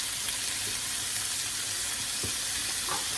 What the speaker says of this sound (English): I'm gonna add my tomatoes in